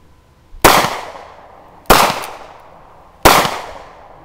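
Three sharp pistol shots from a Glock compact and a Beretta fired at targets, evenly spaced about 1.3 seconds apart, each a loud crack with a quick decaying tail, no talking in between.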